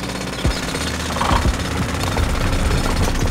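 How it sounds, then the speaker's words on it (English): A cartoon drilling machine bores into rock, giving a loud, steady jackhammer-like pounding with rapid mechanical knocks throughout, alone without voices. "Hulk controls the drilling machine"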